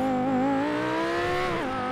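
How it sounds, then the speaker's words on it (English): A car's engine roars at high revs while driving in the video game GTA 5, a loud sustained whine that dips and climbs as the gears shift, with exhaust pops under it and no talking. "Oh, I can hear the pops from the exhaust, guys."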